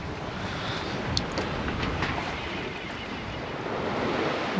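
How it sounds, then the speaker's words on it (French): Ocean swell rolling in from the side against a sailboat at sea, a continuous broad wash of water and wind, steady and fairly soft with no voices. "j'ai une houle qui arrive maintenant de travers"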